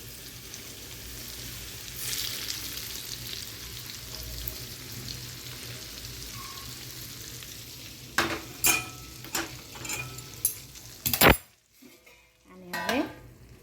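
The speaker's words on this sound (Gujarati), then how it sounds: "અને આપણે આનો વઘાર કરી લઈએ." Tempering spices crackle and sizzle in hot oil for a boiled gunda and jaggery mango pickle, with a faint background hiss that breaks into several sharp, close bursts of spluttering and stirring near the end.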